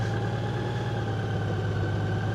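A 2025 Honda Gold Wing Tour DCT's boxer six-cylinder engine idles smoothly and evenly at close range, a low constant drone with no speech.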